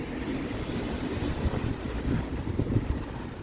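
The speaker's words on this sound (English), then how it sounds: "it suddenly starts to get really windy" Steady wind buffeting outdoors on a Toronto city street on a hot evening, a low rumbling gust noise that swells and eases without any voices.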